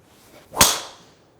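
A single sharp impact of a Ping G430 driver striking a golf ball, a crisp crack that fades quickly, heard alone and fairly close.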